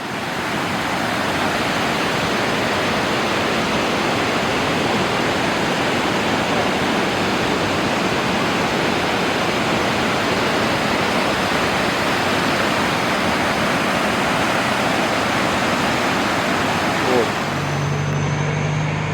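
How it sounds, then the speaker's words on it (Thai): Mae Ya waterfall in Chiang Mai, Thailand, one of the country's largest falls, roars as a dense, constant broadband rush that stays loud and steady until the sound cuts off near the end. "เป็นน้ำตกที่ใหญ่ที่สุดแห่งหนึ่งของประเทศไทยอยู่ในเทือกเขาดอนคำ"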